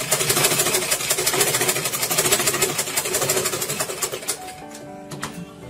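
A sewing machine stitches in a fast, even mechanical rattle close by for about four seconds, then slows and stops, leaving faint clicks at the end.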